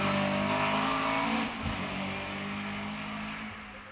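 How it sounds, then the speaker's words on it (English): A Caterham Vauxhall race car engine roars loudly and steadily at a hillclimb, holding a high revving tone before fading slightly as it pulls away. "the car heads safely off to Keepers without losing time"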